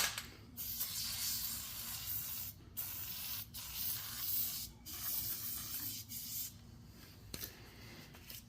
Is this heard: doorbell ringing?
no